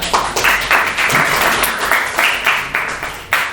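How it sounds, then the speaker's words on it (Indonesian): A classroom of students claps for a classmate, bursts of applause rising and falling in several waves over a few seconds, fairly loud and close, with no speech over it. "Tepuk tangan buat temennya."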